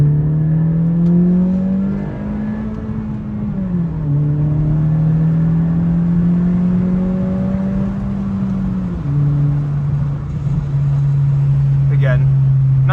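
Honda Civic Type R with a Remark exhaust revving through the gears while driving, a steady close engine drone that climbs and drops in pitch with shifts, with faint talk underneath.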